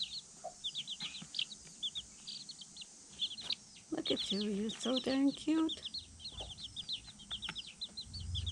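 Chickens cluck and chirp steadily alongside higher peeping from a baby chick, with a person talking softly close by over the birds.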